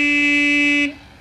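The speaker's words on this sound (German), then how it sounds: "Ja, hup nur. Ich werde auch hupen." A toy car horn sounds one sustained, steady buzzing honk for under a second, loud and close, then cuts off abruptly.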